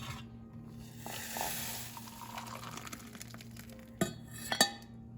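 Tomato sauce with garlic and basil simmers in a pot, giving a soft, steady low bubbling and faint sizzle, with a couple of sharp clinks near the end.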